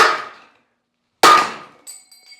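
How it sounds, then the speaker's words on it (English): A main bearing flies out of a blown Nissan 350Z engine during teardown and lands with two sharp metallic clangs about a second apart, each ringing out briefly, followed by a faint tinkle. "This one of the main bearings just flew out."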